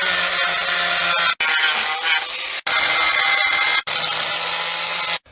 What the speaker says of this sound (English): ready to cut open the safe.